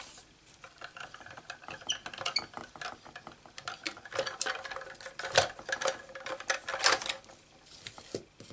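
A Stampin' Up Sidekick die-cutting machine cranked by hand to cut paper bricks, a steady run of close, quiet ratcheting clicks and grinding gear noise, rising and falling with each turn of the handle.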